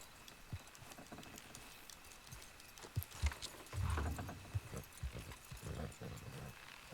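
Horses' hooves clop on the ground in the Red Dead Redemption 2 video game, scattered faint thuds and knocks over low background ambience, with a brief rumble in the middle.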